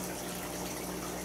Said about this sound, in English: I'm going to go ahead and add this aquarium water, cycled aquarium water